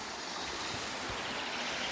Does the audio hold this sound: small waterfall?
yes